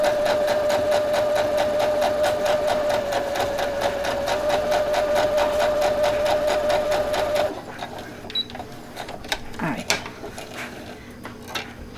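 A sewing machine stitches a straight line along quilt binding, a loud steady whirring hum for several seconds, then stops, leaving a few handling clicks and rustles close by.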